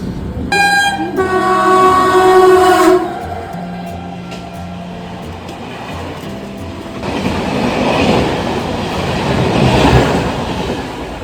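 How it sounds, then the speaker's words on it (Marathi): A loud train horn blasts for a few seconds, then the Tejas Express rushes past close by in the Konkan with a steady roar and rattling wheels. "आपल्याकडे कोकणात गाडी चालली तेजस एक्सप्रेस"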